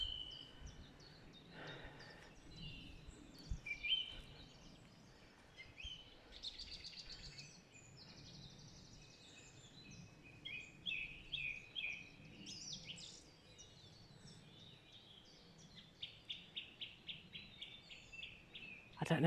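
Several birds sing and chirp through a quiet woodland by a reservoir, a mix of tweets and trills, some closer and some farther off, with no talking.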